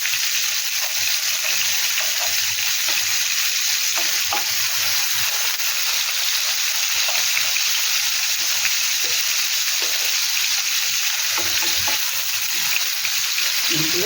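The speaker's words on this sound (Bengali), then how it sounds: "এবার মাছটা ভাজা হোক।" Spiced rohu fish pieces fry in hot oil with a loud, constant hissing sizzle and occasional crackles and stirring sounds, without pause.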